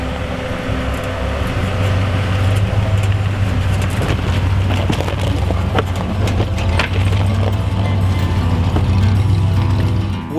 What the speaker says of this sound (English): today we've been driving a 1953 CJ3B